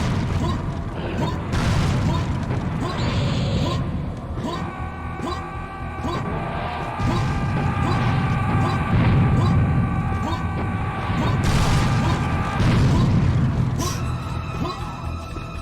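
Serious Sam HD rocket launcher blasts go off repeatedly in heavy booming waves over steady game music and mechanical clatter, loud and close, with a player's voice talking through the action.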